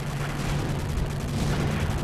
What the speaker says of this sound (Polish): To jak słyszycie w tyle te wybuchy